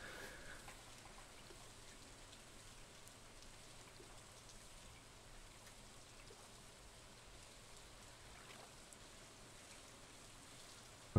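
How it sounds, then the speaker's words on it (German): Soft, steady rainfall in the video game Stardew Valley patters continuously at a low level, with no voices. "Hörst du den Regen?"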